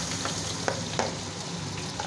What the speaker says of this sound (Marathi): आता आपलं तेल तापले बघा, आता आपण थोडंसं जिरं टाकू